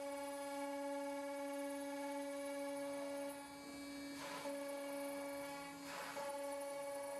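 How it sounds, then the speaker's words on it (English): A Maverick 3x5 CNC router with a 1/8-inch end mill cuts veneer inlay pieces sandwiched between quarter-inch MDF, giving a steady, high, tonal whine with hum that swells briefly twice, with no voices. "By placing the veneer between 2 pieces of 1/4-inch diameter MDF, we're able to cut out the pieces for the inlay."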